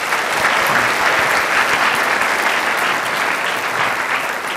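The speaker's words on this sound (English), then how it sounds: "Give him another round of applause." A lecture audience at an empowerment talk on inclusivity and diversity applauds a student's question, with steady, dense clapping sustained at full loudness throughout and no speech over it.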